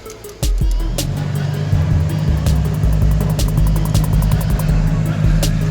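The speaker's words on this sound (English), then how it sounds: "Turn on the air conditioner with the car." A 2008 Scion xB with its air conditioner switched on, a steady low engine-and-blower drone starting abruptly after a brief quiet moment and holding at a constant loud level, with faint repeated clicks on top.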